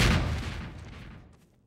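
A rocket explosion in the video game Half-Life 2 bursts loud and booming at once, then rumbles and fades away over about a second and a half.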